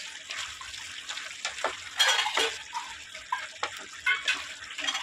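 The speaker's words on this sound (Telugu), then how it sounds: "ఒకసారి కలిపేయండి కారం కూడా కర్రీలోకి." A spoon scrapes and clinks against a pot while chili powder is stirred into a broiler chicken curry, soft intermittent knocks and scrapes under quiet background noise.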